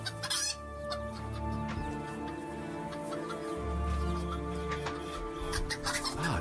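Chickens clucking close by in steady, overlapping bursts, with a rooster crowing in the mix and music playing in the background.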